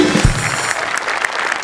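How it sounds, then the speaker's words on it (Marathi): Applause from a studio audience at a comedy show, a brief burst of steady clapping from many people, fairly loud, with a low thump at the start. "मी उभं राहून टाळ्या वाजवू इच्छितो या क्षणी"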